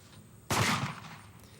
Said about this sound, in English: Skeet shooting is difficult enough with 12-gauge shotguns, let alone 410 handguns.